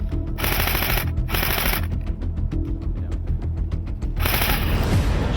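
Airsoft guns fire during an airsoft battle against waves of zombie players, with rapid full-auto bursts separated by short pauses and a faster rattle in between, close and loud, and no talking.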